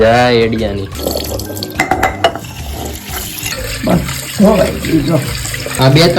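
Water sloshes and splashes in a bowl as soaked lentils are washed, while people talk over it, with scattered drips and rinsing sounds close by.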